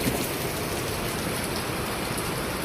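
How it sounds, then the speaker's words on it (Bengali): Heavy rain pouring down in a steady, dense hiss on surfaces, unbroken and enveloping for the whole stretch, with no voices. "এই যে দেখেন কিভাবে বৃষ্টি নামছে, এই যে প্রচন্ড বৃষ্টি আসছে"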